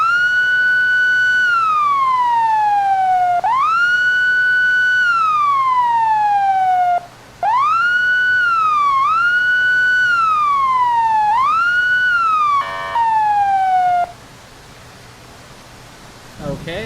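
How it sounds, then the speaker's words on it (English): Police car siren with a wailing, sweeping tone that rises and falls in repeated cycles, loud and close, briefly cut off and restarted before stopping. "turn the volume back up again a bit, and use that siren"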